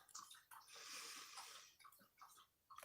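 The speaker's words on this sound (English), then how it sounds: "My dog's back there drinking water" A dog laps water nearby, a soft, steady wet slurping with breathy, snuffling bursts, faint and close in an otherwise quiet room.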